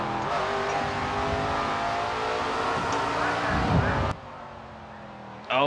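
Race car engine in SRX: The Game on a short track at Slinger, droning steadily at high revs under commentary, then cutting abruptly about two-thirds of the way through and resuming at the very end.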